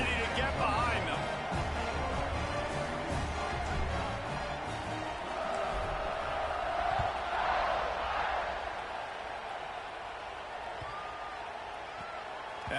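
Stadium crowd in the College Football 26 video game, a Notre Dame game, roars as a steady dense wash of noise through the kickoff with swelling cheers, under a commentator's talk.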